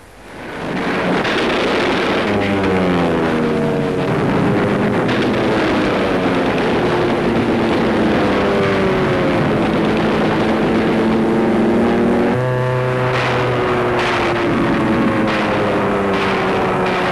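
Wartime aircraft engines droning loudly over the sea near Truk during an air attack, a continuous roaring hum with shifting, sweeping pitch and rumbling, explosive undertones throughout, no talk.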